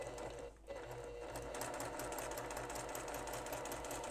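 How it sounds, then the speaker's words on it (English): A sewing machine runs steadily, its needle stitching in a fast, even mechanical patter with a brief dip near the start, close and continuous. "now I'm at my sewing machine and I'm going to sew right on this line"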